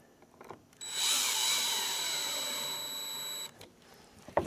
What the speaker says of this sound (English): I'm going to screw this one down as well